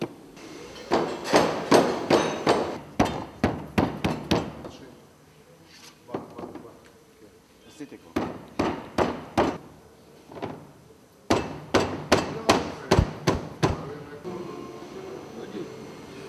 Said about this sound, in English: With the plastic head hammer, stretch out the mesh rug on both sides